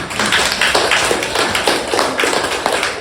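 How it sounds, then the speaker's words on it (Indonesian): Students in a classroom clap together in steady applause after group presentations, a dense, continuous patter of many hands close by, with no talk over it. "Kasih tepuk tangan dulu untuk kita semua."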